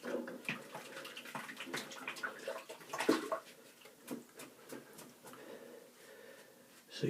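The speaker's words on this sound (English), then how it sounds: "Now I will just give the brush a little rinse." A shaving brush is rinsed under running water at a bathroom sink, a faint, close splashing and trickling with small irregular bursts, no speech.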